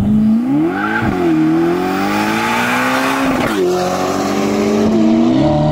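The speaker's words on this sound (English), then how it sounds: "they have made an exceptional noise coming from this twin turbocharged 4-liter V8 engine." A Ferrari's twin-turbocharged 4-liter V8 roars loudly and close, revving up and down through several rising and falling sweeps with brief dips between gear changes.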